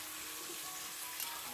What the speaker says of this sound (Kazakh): Енді етімізді, жаңағы өкпелерімізді қуырып алатын боламыз.